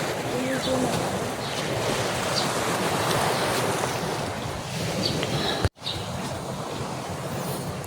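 Sea waves wash steadily onto the beach at Lobo, Batangas, a broad continuous surf roar with wind buffeting the microphone and a brief dropout near the end.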